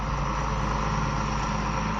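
A grain auger cart drives across a farm field during harvest, producing a steady, loud low rumble of engine and machinery with a constant broadband roar and no breaks.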